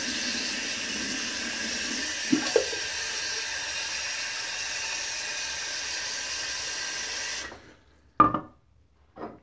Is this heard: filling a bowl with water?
yes